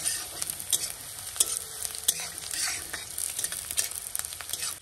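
Frying in a pan while ingredients are stirred until they brown, before ginger-garlic paste goes in for a dried-chili fish curry; steady close sizzle with repeated scraping and stirring clatter, no talking.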